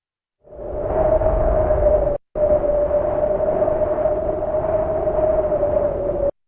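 A muffled, filtered wind ambience for an underground setting, made from equalized white noise, a dull steady hum with a low whistling tone, briefly cutting out once before continuing.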